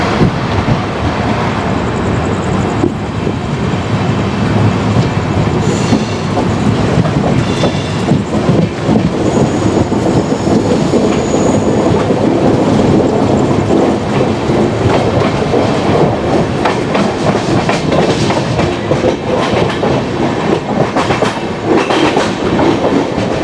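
Island Express train rolling out of Thrissur station in Kerala, a steady, loud rumble of wagons with rhythmic wheel clatter and occasional squeals running continuously throughout, no voices.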